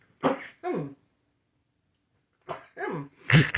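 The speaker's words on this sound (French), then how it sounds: "Excusez-moi, j'éternue." A person sneezes in short bursts, close and fairly loud: a quick double burst, a pause of silence, then another cluster of sneezes with a sharp final one.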